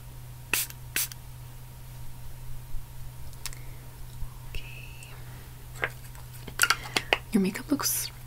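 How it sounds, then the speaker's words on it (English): Makeup setting spray misted from a pump bottle, several short sharp sprays close up, the last ones in a quick burst, with quiet whispering and light handling noises between them. "We'll do one more round of setting spray."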